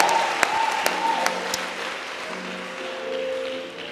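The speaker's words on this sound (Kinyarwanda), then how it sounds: "Tumukomera amashyi data" Church congregation applauding at a sermon, a full continuous wash of clapping with a few sharper claps and a faint voice or tone underneath, fairly loud and close.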